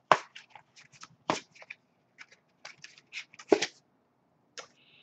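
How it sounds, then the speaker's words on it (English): A deck of tarot cards being shuffled by hand, giving crisp irregular riffling and snapping bursts at close range in a quiet room, with no talking. "As I shuffle the deck"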